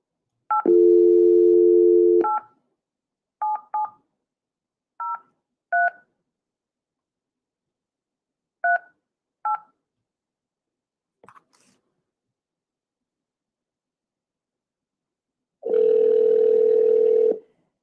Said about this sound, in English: We're going to call WFLT back right now.